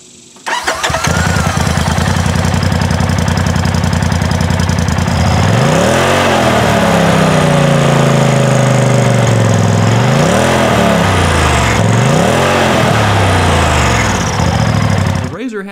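A Polaris RZR XP 4 Turbo LE White Lightning side-by-side's turbo engine cranks over and settles into a loud, close idle, then revs up and back down in several sweeping surges.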